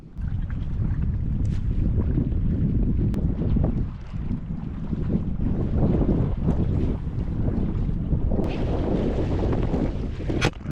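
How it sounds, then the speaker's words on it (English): Strong wind blows across a lake at Buffalo Bill Reservoir in Wyoming, a heavy continuous rumble buffeting the microphone with gusty swells and faint lapping water underneath, no voices. "the wind's really starting to pick up"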